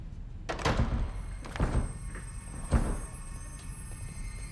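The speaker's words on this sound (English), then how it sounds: "you broke the door." A door being forced and broken open gives three heavy thuds and bangs at an even pace, each a loud broadband impact with some rattle, over a steady low room rumble.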